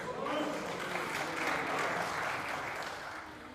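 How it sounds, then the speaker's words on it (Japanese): Applause from Liberal Democratic Party members in the Japanese House of Representatives during a plenary session, a steady, moderately distant wash of clapping that fades slightly toward the end. "自民党の皆様から拍手を頂戴しました"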